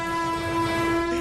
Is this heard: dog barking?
no